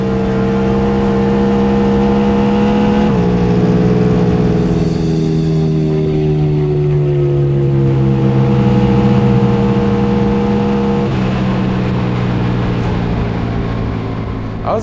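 Indian Challenger race bagger motorcycle running hard on the Bonneville salt flats, a loud sustained engine drone that holds steady, shifts gear around three seconds and again near eleven, pitch dropping and climbing with each change.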